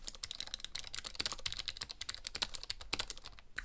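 Rapid, clicky mechanical keyboard typing, a dense run of sharp keystrokes close by, with no voices.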